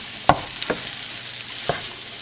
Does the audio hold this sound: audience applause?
no